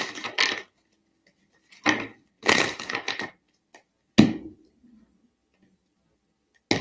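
Tarot cards are shuffled in a few short riffling bursts, quiet and close, separated by pauses, with no talking.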